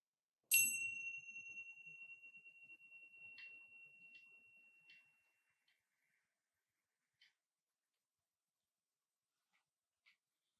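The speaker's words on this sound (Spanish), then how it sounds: "Con el sonido de la campana puedes moverte con suavidad" A single meditation bell is struck once and rings out clearly, its bright tone fading slowly over several seconds in a quiet room, with a few faint ticks afterward.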